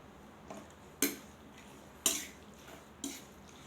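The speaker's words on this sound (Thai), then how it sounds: "คุกเคล้าให้เข้ากัน ใบมะกรูดสักหน่อย เวลาผัดมันจะได้หอม" A utensil scrapes and knocks against a pan while pork curry ingredients with kaffir lime leaves are tossed and mixed, four sharp clanks spaced about a second apart over a quiet background.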